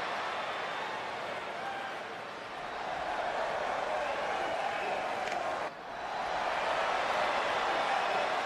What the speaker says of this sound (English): To me, like this crowd is ready to get this battle royal underway